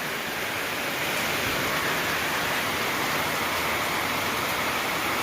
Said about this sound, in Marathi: पाऊस अजून तर काय कमी आला नाही.